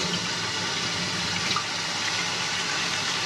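Tap water runs steadily over raw meat in an RV kitchen sink, rinsing off old blood, a constant close hiss of flowing water with no talk.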